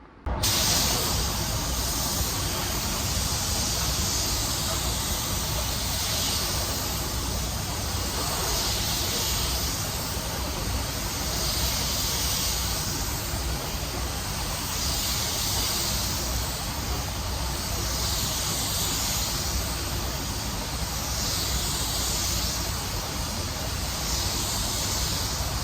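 A spray gun hisses steadily for a long stretch, spraying a wet coat of metallic paint, the airy spray swelling and fading in regular sweeps as it passes back and forth.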